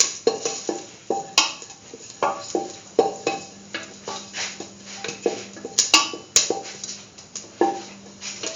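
Metal utensils scraping and clinking against a pan as curried lentils are salted and mixed, repeated rhythmic stirring strokes close by with occasional sharp clanks.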